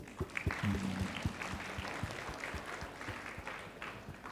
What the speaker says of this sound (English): let's give applause to Elena.